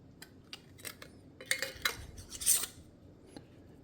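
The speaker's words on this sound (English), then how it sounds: "Now we're just going to put the regular lid on." A regular metal lid is fitted and twisted onto a filled glass pickle jar, giving several close clinks and scraping clicks in short bursts with no talking.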